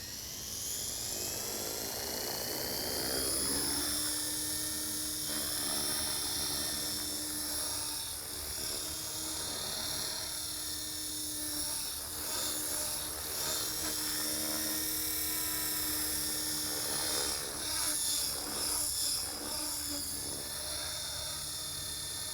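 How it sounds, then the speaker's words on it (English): An RC helicopter lifts off and hovers nearby with a constant high whine from the spinning rotors and a buzzing tail rotor whose pitch wavers as the tail input shifts, steady and loud throughout with no talk. "Now I want to go ahead and lift it off and play with the tail rotor input"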